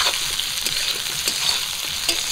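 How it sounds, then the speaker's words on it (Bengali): Plantain pieces fry with salt and turmeric in a pan, giving a steady, close sizzle with faint stirring ticks and no voices. "লবণ হলুদ দিয়ে কলাগুলো একটু ভাজা করব"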